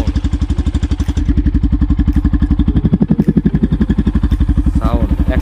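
A Yamaha FZ-X 150cc motorcycle engine idles just after starting, with a steady, even, thumping single-cylinder beat, close and loud, and a brief blip or clatter partway through.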